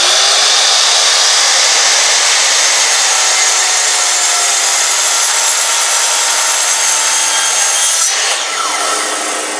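A chop saw cuts through a chunk of plastic with a loud, continuous high whine and grinding rasp, held steady for nearly ten seconds before tapering slightly at the end, close up and without speech.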